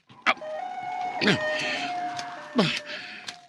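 A siren tone holds steady and then steps between two pitches, sounding distant, while a person talks in short bursts over it.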